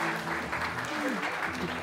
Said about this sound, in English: can we please have a round of applause for Steph Hotchkiss?